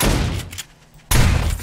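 Bursts of gunfire in War3zuk AIO 7 Days to Die, a loud dense volley that breaks off into a quiet gap, then a second heavy burst resumes near and forceful.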